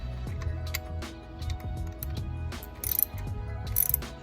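Repeated ratcheting as a hand ratchet tightens screws back in on a Chevrolet Silverado engine, with clicky mechanical bursts in short rhythmic runs at close range and no talking.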